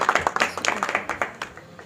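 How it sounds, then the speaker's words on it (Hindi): Brief round of applause from a small crowd at a political gathering in Delhi, a quick run of sharp, uneven hand claps close by, fading toward the end. "हम इनके लिए ताली बजाते हैं"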